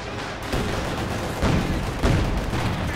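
Heavy mortar and small-arms gunfire in the World War II strategy game Company of Heroes 2, a dense continuous clatter of shots with several deeper booming impacts rising out of it at roughly one-second intervals.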